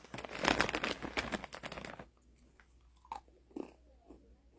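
Crunchy Oreo cookies are bitten and chewed up close in a rapid burst of loud crunching for about two seconds, then a few faint chewing sounds in near quiet.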